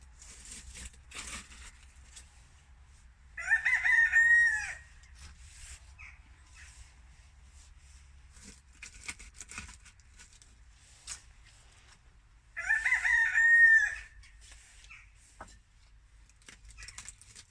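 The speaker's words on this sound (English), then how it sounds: "my rooster's going crazy." A rooster crows twice outdoors in a garden, two loud, clear calls about nine seconds apart over quiet rustling, heard while holly greenery is arranged into Christmas planters.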